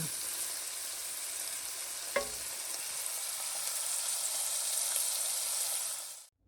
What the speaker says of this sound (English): I'm going to fry it until it is maybe not completely done